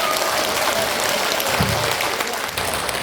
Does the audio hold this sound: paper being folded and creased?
no